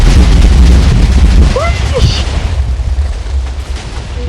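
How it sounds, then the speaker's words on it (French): Loud booming Minecraft explosion blasts at the start of a build battle game, then rumbles and fades while players talk and react over it. "Wow, l'explosion."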